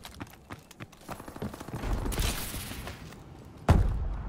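Video game gunfire in a search-and-destroy match: a sparse run of sharp shots that builds into denser bursts, with one heavy thump near the end, no talk.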